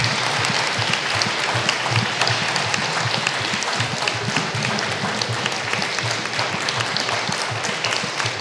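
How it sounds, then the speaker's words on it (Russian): Audience at a presentation of Schema-Metropolitan Juvenaly's book "Holy Week" applauding the author: dense, even, sustained clapping from a large crowd throughout, with no pauses. "давайте поблагодарим автора бурными аплодисментами"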